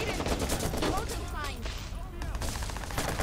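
Rapid AK-47 bursts in the video game Watch Dogs, dense overlapping gunfire crackling throughout while a voice shouts and exclaims over it.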